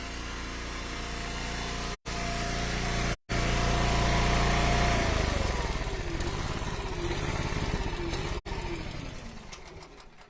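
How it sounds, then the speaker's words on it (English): A gas-powered log splitter engine runs loudly nearby, then winds down as it is shut off, its steady drone sinking in pitch while a few sharp clicks and knocks break through. "I'm gonna shut the splitter off."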